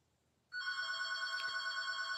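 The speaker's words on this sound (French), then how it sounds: "Qui m'appelle sur mon téléphone maison?" A home landline telephone bell starts ringing abruptly after a quiet moment, a loud, sustained electronic trill heard close and alone.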